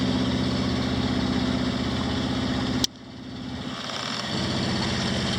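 Steady engine drone of a sailing yacht motoring under power, low and even, cutting out abruptly midway, then returning more faintly; no talking.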